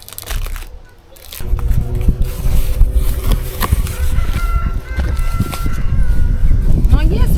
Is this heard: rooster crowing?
yes